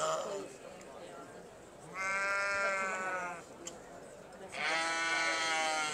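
Sheep bleat in two long, loud, quavering calls at a Valais Blacknose show judging, with the second call following a short pause and a low murmur of crowd noise between them.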